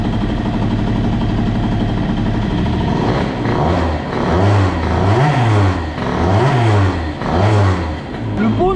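A scooter engine fitted with a Malossi G1R 175 cylinder kit idles roughly, then revs in several repeated rising-and-falling bursts, loud and close after a long period of disuse.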